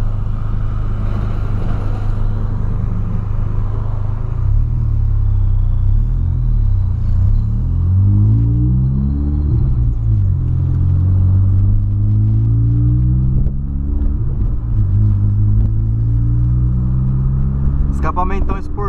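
VW Polo Sedan with a loud sport exhaust rumbles while driving, its deep engine note rising and falling through repeated revs and gear changes, close and continuous, with a brief clatter near the end.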